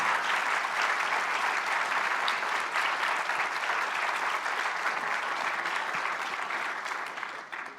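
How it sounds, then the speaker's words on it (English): Sustained, dense applause from an audience at a panel debate on philanthropy by the wealthy, steady and loud for several seconds before tapering off at the end. "please join me in a hearty round of applause"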